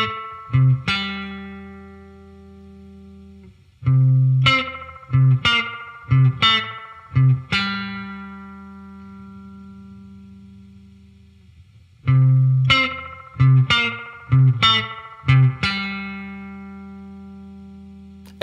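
Guitar notes played through a spring reverb pedal with its tone knob being adjusted: separate plucked notes and short phrases, each followed by a smooth ringing decay, with pauses between groups.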